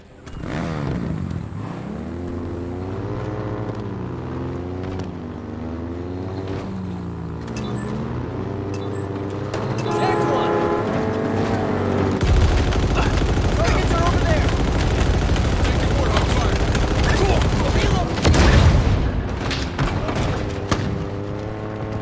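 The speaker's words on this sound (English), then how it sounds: "here are the Halo Infinite and Halo 3 Warthog Big Team Battle clips" A Warthog vehicle in Halo during a Big Team Battle match, its engine droning and shifting pitch, then chain gun fire and explosions crowding in over the engine. Voices talk throughout.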